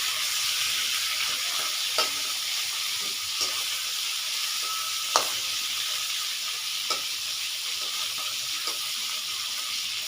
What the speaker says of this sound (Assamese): এতিয়া হৈ থাকক, মাছখিনি ভজা হৈ থাকক